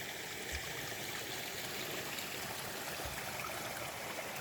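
A mountain stream fed by snowmelt in Stranda, Norway flows in a steady, broad rushing hiss, close and constant throughout, with no voices.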